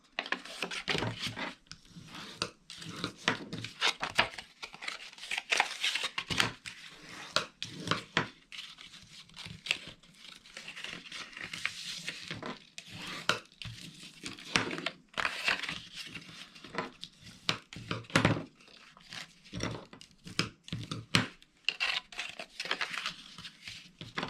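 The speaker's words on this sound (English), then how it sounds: "And then we're just going to fold and burnish all of our scores." Paper card folded and burnished along score lines, heard as close, quiet crinkles, rubs and sharp creasing rasps in irregular bursts with brief pauses between strokes.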